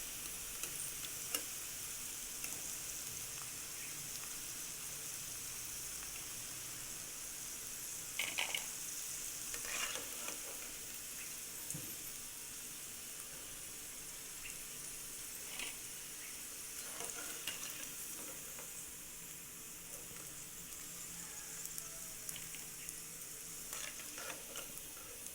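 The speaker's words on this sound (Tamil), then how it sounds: "கலர்லாம் நல்லா மாறி நல்லா பொரிஞ்சிட்டு இப்போ நம்ம இதை எடுத்துடலாம்." Cauliflower 65 pieces deep-fry in hot oil with a steady, faint sizzle and occasional light stirring clinks, continuous and without talk.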